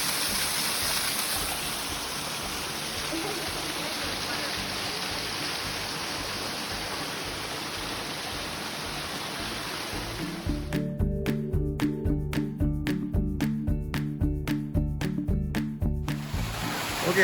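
Continuous rushing water roars steadily, like a waterfall nearby, later joined by rhythmic clicking and thumping noises.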